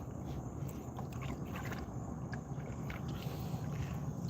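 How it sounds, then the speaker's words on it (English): A canoe is paddled on open water, with steady splashing and dipping strokes under a constant wash of wind and water noise, close to the microphone and with no talking. "I'm just paddling"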